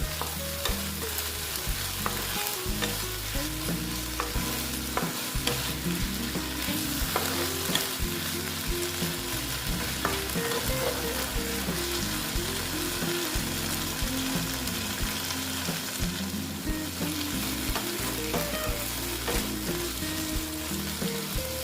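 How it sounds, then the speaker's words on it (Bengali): Taro stolons being sautéed with sugar in a pan for a vegetarian dish, a steady sizzle with repeated scraping and stirring strokes of a utensil against the pan, close and continuous. "এই যে লতিগুলো দিয়ে দিচ্ছি আমি একটু কষিয়ে নিচ্ছি"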